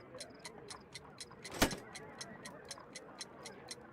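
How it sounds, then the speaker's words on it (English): A homemade clock-rigged time bomb with a bell and hammer ticks steadily and crisply in a video game, about four ticks per second, with one louder sharp knock partway through. "A fancy ticking homemade gift from a secret admirer."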